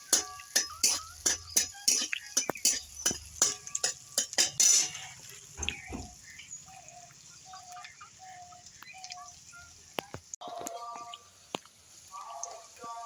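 A utensil clinks sharply and rhythmically against a pan while stirring chopped garlic, ginger and chilli in melted butter for veg momos. After about five seconds the clatter gives way to quieter, scattered taps and a soft sizzle.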